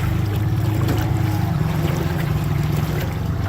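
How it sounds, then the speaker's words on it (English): An electric trolling motor powered by Enjoybot LiFePO4 lithium batteries runs on a boat, giving a steady low hum and drone under continuous water and wind noise, close and unbroken throughout. "As long as I don't turn this motor off, we're fine."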